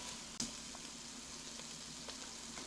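Liquid hits a hot pan holding stuck-on bacon residue, giving a faint, even, continuous sizzle with a brief sharp pop near the start, heard alone without speech.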